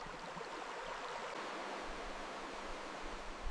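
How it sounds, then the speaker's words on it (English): Mountain stream water washing over stones in the Swiss Alps, a steady, close, broadband rush and burble that continues evenly throughout with no voices. "the sound of the water washing over the stones"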